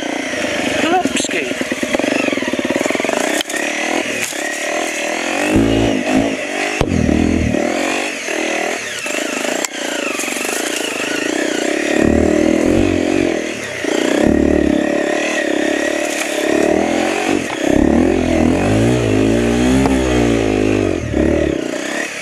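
An enduro motorcycle engine runs and revs close by, a loud buzzing idle broken by repeated throttle blips and rising revs, with someone talking over it throughout.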